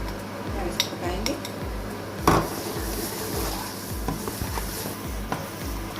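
A spoon stirs carrot barfi with cardamom powder and butter in a pan, giving soft scraping and occasional metallic clinks against the pan at a quiet, steady pace, with no talking.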